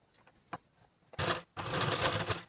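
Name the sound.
sewing machine stitching a straight seam on a blouse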